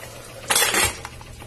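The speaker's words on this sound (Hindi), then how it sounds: "अब मैं कुकर का ढक्कन लगा देती हूँ" A metal lid is set onto a pressure cooker during mutton stew preparation, making one short clattering clank of metal on metal followed by a faint tap, close by over quiet kitchen background.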